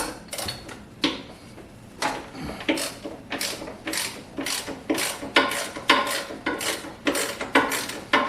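Bolts being loosened with a ratchet on an old DoAll 10 x 30 surface grinder: repeated metallic clicking and clanking bursts in an irregular rhythm, close and fairly loud, with no talking.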